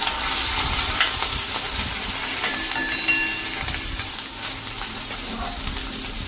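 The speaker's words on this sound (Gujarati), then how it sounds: "અને એને આપણે આ રીતે તેલમાં થોડીક કૂક કરી લઈશું." Chili paste frying in hot oil in a pan for a mung bean curry, a continuous close crackling sizzle with occasional stirring scrapes.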